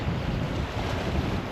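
Strong wind buffets the microphone on a rocky shore during a fishing trip, a steady, loud roaring rush with no pauses over the whole short stretch.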